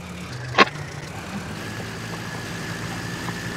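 Farm tractor engine runs steadily while driving, a low droning rumble heard from inside the cab, with a brief sharp clank early on.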